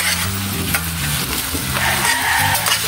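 Bicol Express being stirred in a pan after soy sauce is added, with a steady close sizzle and continuous scraping of the utensil through the simmering food.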